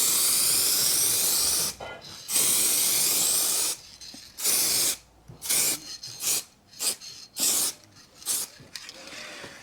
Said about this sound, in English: so final coat of lacquer, nice and thick